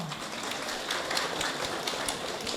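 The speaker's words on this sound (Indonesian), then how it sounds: "Tepuk tangan untuk beliau." Crowd applause at a village stunting-awareness event in Sobontoro, Bojonegoro: steady, dense clapping from many hands that sustains evenly throughout, moderately loud and without talk.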